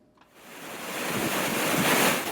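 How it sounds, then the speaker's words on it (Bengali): Rough Bay of Bengal surf at Kuakata in Patuakhali, churned up by a depression, rises from near quiet into a broad, roaring rush of breaking waves with wind noise. "পটুয়াখালীর কুয়াকাটা সংলগ্ন বঙ্গোপসাগর বেশ উত্তাল হয়ে উঠেছে"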